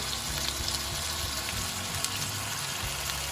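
Coconut oil and noodles sizzle in a pan for spinach and prawn coconut noodles, a dense, even frying hiss with a low rumble beneath and no one speaking.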